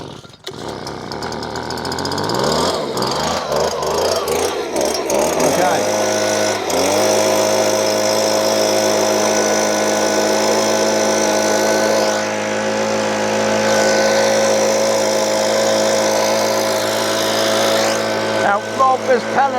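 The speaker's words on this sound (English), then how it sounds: "So I'm going to get Rob now to start the leaf blower." A leaf blower sputters and revs up, then runs at full power with a loud, steady high-pitched whine and roar close by, aimed at a 55 cm drone landing pad; a brief surge near the end.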